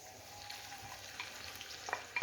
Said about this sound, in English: I'm going to add my onions